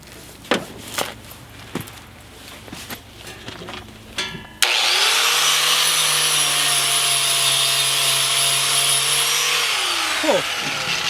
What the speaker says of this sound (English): I may hit this one with a wire brush on a drill